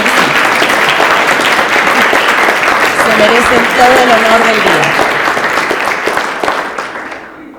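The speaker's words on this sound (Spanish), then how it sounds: "Aplauso, aplauso." Loud, sustained applause from a crowd at a reunion event for former volunteers on a campus, with someone talking over the clapping midway before the noise gradually thins out and fades.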